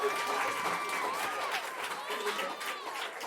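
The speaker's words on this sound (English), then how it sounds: "the bar erupted in applause and cheers for her." A crowd in a Brooklyn bar applauds and cheers continuously, loud and close, with voices mixed into the clapping throughout.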